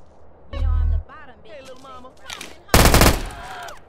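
Micro Uzi submachine gun fire with remastered next-gen GTA weapon sounds: a short low burst early on, then a loud, sharp rapid burst later, with someone talking between them.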